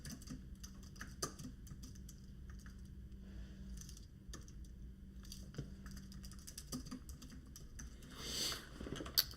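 Rapid, uneven clicks from typing on a computer keyboard during a live music-review stream. The keystrokes are faint, close and patter on and off against a quiet background.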